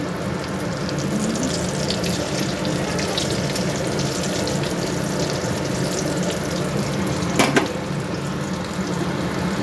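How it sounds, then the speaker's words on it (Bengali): A chicken cutlet dipped in egg fries in a wok, giving a steady, fairly loud hiss of oil with one brief sharper burst near the end. "এই যে দেখো কড়াইয়ে ছেড়ে দিয়েছি, কড়াই এই যে ভাজছি আমি"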